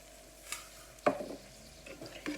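Minced meat tajine simmering in a pot, with a few soft scraping stirs and faint bubbling spread across a short, quiet stretch.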